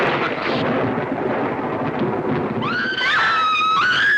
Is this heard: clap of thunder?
yes